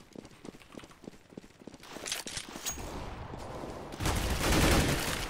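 Gunfire and a grenade blast in CS:GO, starting as a string of sharp evenly spaced shots, then swelling into a louder, broad rushing burst toward the end.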